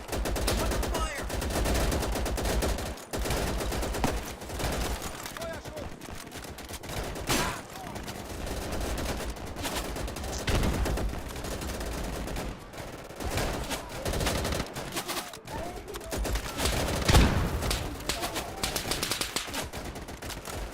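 Gunfire in the video game Easy Red 2: a steady barrage of shots and bursts, some sharp and close, others more distant, running on without a break, with faint voice-like sounds mixed in.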